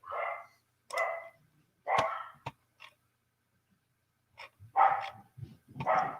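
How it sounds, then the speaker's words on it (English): Several dogs bark in scattered bursts, sharp yaps and woofs separated by short silences, heard at moderate distance without anyone talking. "I'm going to sell those damn dogs. They are barking at leaves."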